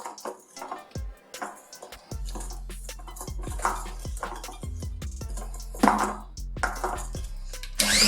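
Spoon clinks and scrapes in a bowl as two tablespoons of sifted powdered sugar are mixed into eggless chocolate cupcake frosting, giving repeated knocks and taps at close range with no talk.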